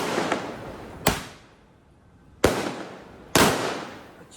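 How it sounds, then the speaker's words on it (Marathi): Three separate loud firecracker bangs at a Ganesh festival welcome, spaced about a second apart, each followed by a short echoing decay, with no voices. "फटाक्यांचा आवाज येणार होता"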